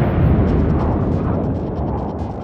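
A broadside from the main guns of the battleship Nagato in World of Warships lands as one loud, near, sustained boom with a deep rumbling roar that carries on and slowly fades, with no talking.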